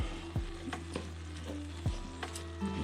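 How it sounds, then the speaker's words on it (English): Onions and yellow peppers frying in a pan give a steady close sizzle, broken by several sharp knocks and scrapes from stirring, with no talk. "Add the onions and yellow peppers and cook until the onions are soft."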